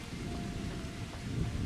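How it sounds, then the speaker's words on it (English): Steady rainfall hisses in the Bohemian countryside of Kingdom Come: Deliverance, with a low rolling rumble of thunder beneath it. The storm stays fairly soft and even, with no voices over it. "And it's raining again, of course,"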